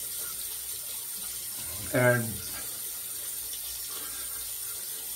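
Water runs from a tap during a shave with a disposable razor and brushless shaving cream: a steady, even hiss throughout, with a single brief spoken word partway through.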